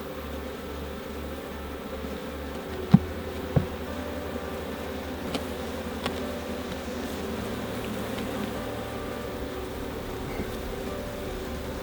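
Honey bees buzzing around an open hive during a hive inspection, a steady close drone over low hum, with a few sharp handling clicks and taps.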